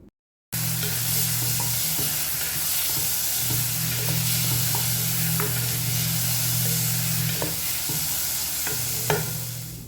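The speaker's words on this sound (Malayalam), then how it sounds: "തക്കാളി ചേർത്ത് കൊടുത്തിട്ട് തക്കാളി ഇതേപോലെ ജസ്റ്റ് ഒന്നുകൂടെ വഴന്ന് ഒന്ന് കുക്കായി വരണം" Tomatoes sautéing with onions in a pan for dal palak, a steady close sizzle and frying hiss with occasional stirring clinks and scrapes throughout.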